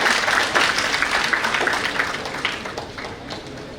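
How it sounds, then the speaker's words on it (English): An audience at a festival event in India applauds a speaker's introduction, a dense, sustained round of clapping that fades slightly toward the end. "please use a round of applause for Dr."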